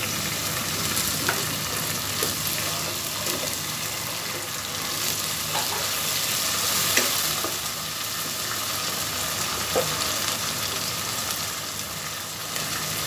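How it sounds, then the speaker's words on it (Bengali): Ginger-garlic paste sizzles in hot oil with lightly fried onions for Hyderabadi khichuri, a steady, close frying hiss broken by occasional scrape-and-stir clatters, with no talking. "এখন আমি এখানে আদা এবং রসুনের পেস্ট দিয়ে দিব।"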